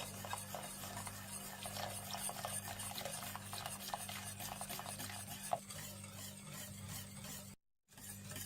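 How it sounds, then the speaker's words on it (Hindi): A spoon stirring caramel custard in a pan on the stove as the custard powder is mixed in little by little, with soft, continuous scraping and stirring and a faint sizzle, close and quiet, with no talking. "आप इसमें कस्टर्ड पाउडर थोड़ा थोड़ा करके मिला लीजिए और साथ साथ चम्मच भी चलाते रहें"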